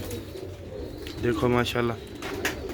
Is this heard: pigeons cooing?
yes